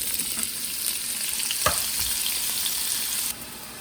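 Drained potatoes drop into a hot pan of grapeseed oil and sizzle loudly and steadily, with a brief scrape partway through, close by and without speech.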